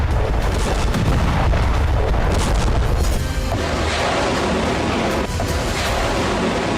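Booming fire from LG-155 laser-guided artillery at a Turkish military exhibition, loud dense blasts and rumbling reports packed tightly together across the whole clip without a pause.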